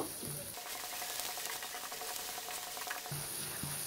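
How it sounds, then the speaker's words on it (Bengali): Grated ginger and garlic fry lightly in a pan, giving a steady, close sizzle that runs unbroken throughout with no talking. "এখন আদা রসুনটাকেও আমি একটু হালকা ভেজে নেব।"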